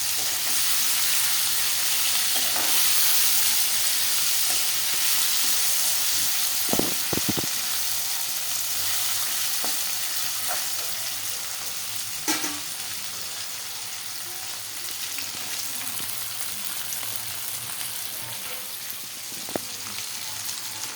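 Sagubeyyam upma frying in a pan with ginger paste and coriander stirred in, giving a continuous sizzle and hiss with occasional scraping knocks from the stirring, close and steady throughout.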